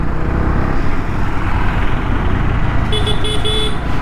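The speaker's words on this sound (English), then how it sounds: "Very weak sounding horn." Honda CB300R motorcycle horn, weak and thin, sounding in three short beeps over steady road and engine noise while riding.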